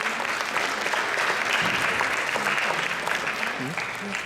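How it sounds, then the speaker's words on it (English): Audience applause after a dance performance fills the room steadily, a dense wash of many hands clapping, with a voice or two faintly audible beneath. "Can we give them another round of applause, please?"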